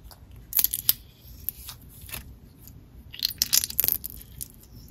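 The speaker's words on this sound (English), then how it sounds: "the jelly cubes are super satisfying to squish" Jelly cubes squish inside clear slime, giving irregular wet crackles and crunchy pops that come in small bursts near the start and again toward the end, close and quiet with no speech.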